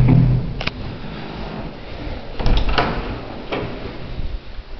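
Old wooden doors of a 1906 Stigler traction elevator in Copenhagen open with a series of distinct clacks and latch clicks over a low mechanical rumble, a few sharp knocks spaced across several seconds.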